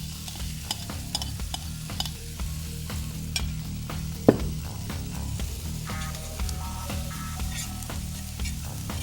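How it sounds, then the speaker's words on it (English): Fettuccine sautéing in a pan, a steady close sizzle and crackle with occasional pops and one louder clatter near the middle, with no voices. "So that's sauteing off."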